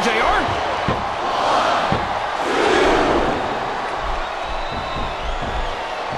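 Wrestling arena crowd in the Smackdown vs RAW 2007 video game, a steady roar of cheering with swelling surges and some sharp slams, continuous and fairly loud throughout.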